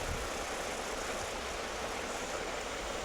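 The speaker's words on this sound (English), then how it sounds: "there might be some noise of the fan over here" A room fan runs with a steady, even whoosh of broadband air noise, constant and unbroken throughout, with no voices over it.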